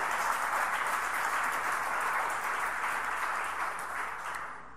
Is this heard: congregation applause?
yes